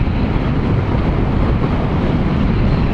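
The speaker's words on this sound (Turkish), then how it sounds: "şu anda bayağı da karşıdan gelen rüzgar var" Steady, heavy headwind roar buffets the microphone throughout while riding a SYM Fiddle III 125 scooter at about 100 to 110 km/h, a constant rushing blast with no letup and no voices.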